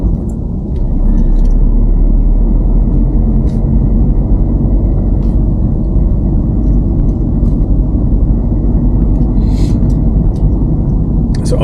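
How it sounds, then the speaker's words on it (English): A car pulls away in first gear onto a wide suburban road in West Didsbury, Manchester, heard from inside as a steady, loud low engine and road rumble throughout, with faint higher clicks and brief noises on top. "I will just last check again and move off safely onto the road."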